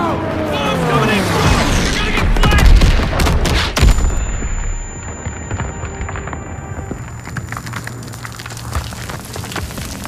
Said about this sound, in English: Clear out! Bombs coming in!